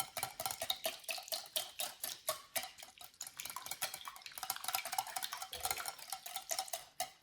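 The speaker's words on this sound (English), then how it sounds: "Now adding some milk. Give it some further whisk." Batter and milk whisked in a bowl, heard as a quick, steady train of close, rhythmic clinking strokes that barely pause from start to finish.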